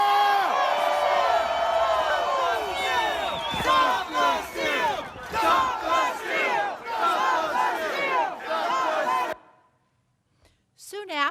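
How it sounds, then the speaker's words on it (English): A political rally crowd chanting in unison, played back from a recording, loud rhythmic shouted phrases repeating from a large mass of voices with cheers, ending abruptly before brief other sound. "Here's what that chant sounded like from the crowd's perspective"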